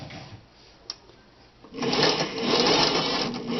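A Singer s401G sewing machine stitching a wide zigzag, starting after a quiet moment and then whirring loudly and continuously at close range.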